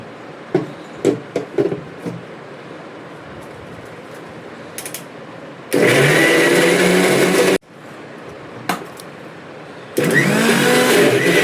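A mixer grinder roars loudly in two separate bursts while grinding masala for a fish curry, after a stretch of quiet kitchen clatter and knocks.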